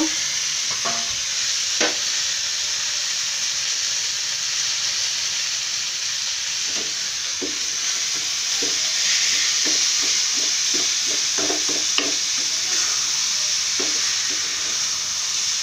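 Raw banana pieces with turmeric fry in a pan under a loud, constant hiss, with repeated scraping clicks as they are stirred throughout.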